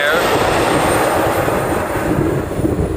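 Korean Air airliner jet engines at an airport, heard while plane spotting in Honolulu: a loud, steady broadband roar with a faint high whine, continuous and close.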